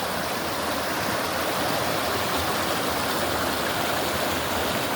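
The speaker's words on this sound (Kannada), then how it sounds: "ನನಗೆ ನೀರು ಹರಿತಾರ ಫೋರ್ಸ್ ನೋಡ್ರೆ ನೀವು ಹೋದೆ ಅನಿಸ್ತೈತಿ" Forceful stream water rushes steadily at a scary river crossing spot, a dense continuous roar that fills the whole stretch without any break.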